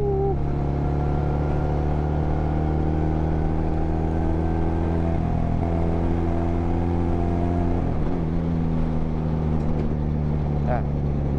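A motorcycle rides at speed with a steady, droning engine note and rushing wind. The note dips and shifts around gear changes, and a voice talks faintly in the background.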